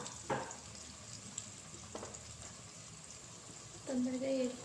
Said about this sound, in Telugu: సిమ్లో బట్టి మంచిగా రంగు వచ్చే వరకు వేయించుకోవాలి